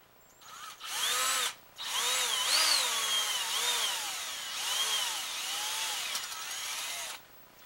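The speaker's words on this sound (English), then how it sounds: "So I'm going to drill that in my hands." A hand-held power drill bores into a wooden crossbow stock, whining in two long bursts with a short pause between them and the pitch rising and falling with the load.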